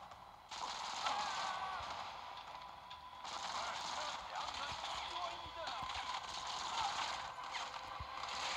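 Rapid gunfire in the mobile video game Modern Combat on Android, sustained bursts with brief gaps, a player talking over the shooting.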